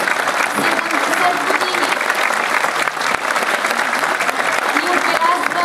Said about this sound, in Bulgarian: вашия бурен аплауз за юбиляра